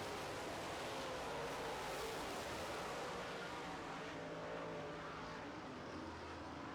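Late model race cars roaring around a dirt oval during a feature race, a steady distant engine drone blended with crowd and track ambience, faint and continuous with no close passes standing out.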